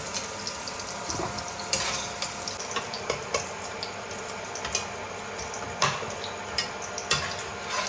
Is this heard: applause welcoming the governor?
no